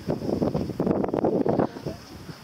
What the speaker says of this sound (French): Le vent baisse